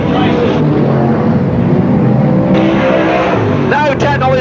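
Sprintcars roar around the Parramatta City Raceway dirt oval during the Australian Sprintcar Grand Prix feature race, loud engines droning and surging as cars pass close, with a race commentator talking over the noise.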